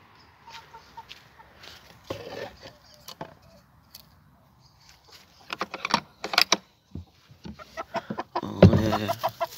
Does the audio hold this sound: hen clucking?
yes